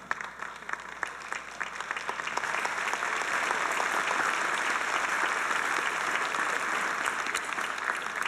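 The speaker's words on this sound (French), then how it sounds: "Si on peut applaudir pour eux pour le grand travail." An audience at a church general conference plenary session claps steadily, the applause starting with scattered claps and swelling into a dense, sustained ovation filling a large hall, with no talk over it.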